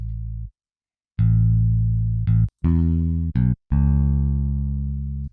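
A synth melody of sustained, buzzy notes with a gritty distortion effect and EQ applied, played loud and alone, with short gaps between phrases.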